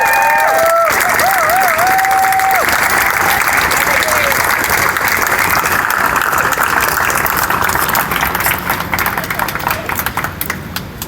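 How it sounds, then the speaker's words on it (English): Dense, loud crowd applause and cheering fills a protest at City Hall over encampment evictions, steady throughout with a voice shouting briefly at the start. "Please give a big round of applause to Jen."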